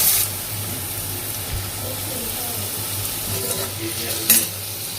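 Onion frying in a pan of oil with mustard seeds and cumin for Punjabi dal, a steady close sizzle with light stirring scrapes and a brief clatter near the end, no talk.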